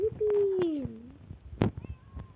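A cat gives a drawn-out meow that bends down in pitch, followed by a fainter short mew, while a person talks softly nearby.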